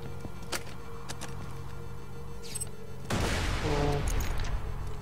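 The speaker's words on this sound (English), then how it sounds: "Yeah, throwing grenade." Video game Borderlands 2 combat with a grenade explosion and bursts of gunfire, sharp shots at first then a loud rumbling blast with crackling debris over a steady game soundtrack.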